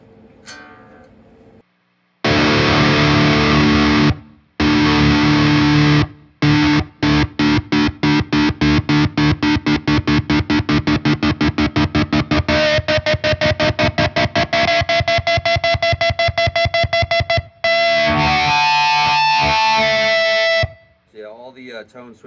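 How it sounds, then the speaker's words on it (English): A 1999 Kramer Voyager electric guitar through a Bogner Uber Ultra high-gain amp, heavily distorted, plays loud chugging palm-muted riffs with rhythmic stops, then sustained ringing chords near the end. "Just got the volume maxed out on the super distortion here."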